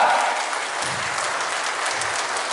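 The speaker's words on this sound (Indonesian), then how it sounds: "Tepuk tangan untuk semangat kita" A crowd claps at an Indonesian political rally celebrating an election victory declaration, producing a loud, continuous wash of applause that stays level from start to finish.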